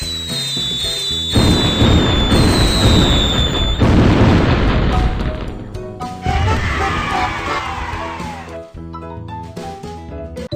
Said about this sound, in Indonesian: Ayo kita ledakan kembang api.